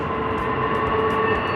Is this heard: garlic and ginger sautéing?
no